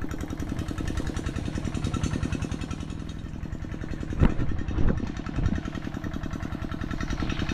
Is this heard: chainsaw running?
yes